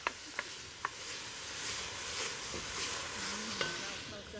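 Diced tomato and its juice land in a pan of sizzling bacon and onion, a steady bright frying hiss with a few sharp clicks of utensils, close by and moderately loud.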